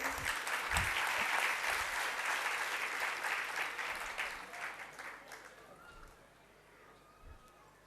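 Sustained clapping from an audience during a Jain sermon by a monk, dense and even for several seconds, then thinning out and fading, with a voice faintly present near the end.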